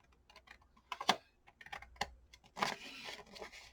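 Scissors cut along the outline of a paper envelope to make a template, giving a few sharp, close snipping and crunching sounds separated by short pauses, with no talk.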